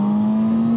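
A superbike engine pulls hard in third gear, a steady droning hum with a strong sustained tone, loud and close for under a second, with no voices.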